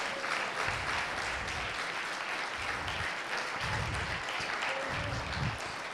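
An audience at an international university startup competition applauds, with steady clapping filling the whole stretch and a few heavier low thumps pulsing underneath.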